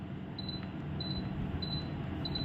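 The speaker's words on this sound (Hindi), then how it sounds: "बट आपको बीप की आवाज़ आ रही होगी।" A Voltas 1.5-ton inverter air conditioner gives four short, evenly spaced electronic beeps as its temperature button is pressed, each a clear high tone over a steady low room hum.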